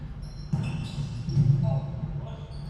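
Basketball gym ambience with a ball bouncing on a hard court, sneakers squeaking and faint distant voices in an echoing room.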